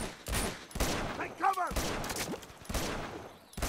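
Gunfire in the video game Uncharted 2, rapid bursts of shots in a dense volley throughout, loud and close, mixed with game effects.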